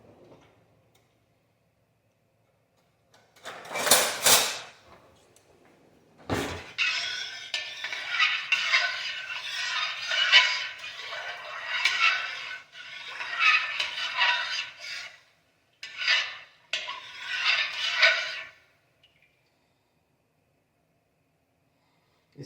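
Milk for dudhpak is stirred in an uneven-bottomed pot, producing bursts of scraping and clinking from the spoon against the metal, separated by short pauses, with no talk.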